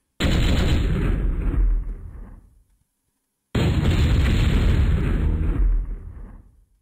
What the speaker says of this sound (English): Multi-cannons.